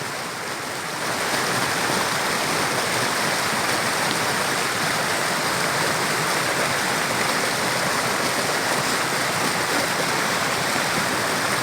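A stream flowing between pine-covered hills, a steady, loud broadband rush of water that continues unbroken from start to finish with no other sounds.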